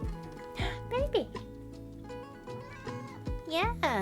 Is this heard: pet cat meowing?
yes